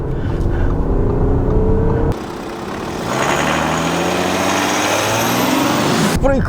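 An Audi A7 50 TDI quattro diesel accelerates hard at high revs: a loud, close engine roar with rising tones as it climbs through gears, and a brief dip between shifts.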